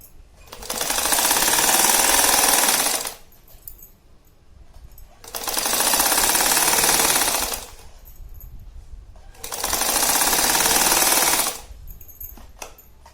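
A sewing machine stitching straps onto a shopping bag runs in three loud, steady bursts of rapid mechanical clatter, each a few seconds long, separated by quiet pauses.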